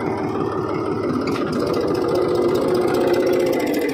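A tractor engine drones steadily while pulling a cultivator through a farm field, a continuous mid-pitched rumble with even loudness and no voices.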